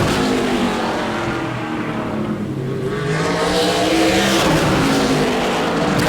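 Super late model race cars at Auburndale roaring as the green flag drops in qualifying, a loud sustained engine drone with rising and falling pitch as the cars wind up and pass.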